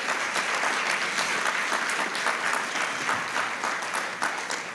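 A church congregation claps strongly and continuously, a dense, even wash of applause that stays steady and tapers slightly near the end.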